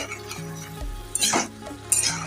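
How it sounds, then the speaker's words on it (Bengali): Vegetables for Bengali shukto stirred in a pot, a spoon scraping and clinking against the metal over a soft simmering sizzle, close and fairly loud, with no talking. "এবার এটাকে ভালোভাবে একটু নাড়াচাড়া করে নিতে হবে"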